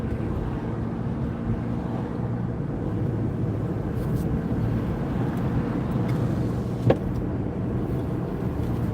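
A car cruises along an expressway, a steady broadband rumble of road and engine noise with wind, constant in level throughout, with one brief sharp knock near the end.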